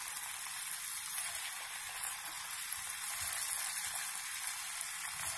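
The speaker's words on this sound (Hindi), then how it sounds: "अब ये मैं इसको फ्राई करने जा रही हूँ, ऐसे ही सारे फ्राई कर लेना है।" Nacho pieces fry in hot oil, giving a continuous, even sizzle and bubbling crackle that runs steadily throughout with no talking.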